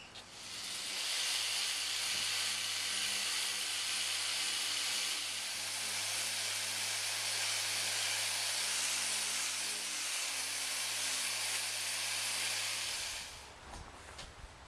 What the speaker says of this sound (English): it's my buffing machine, which is a DA buffer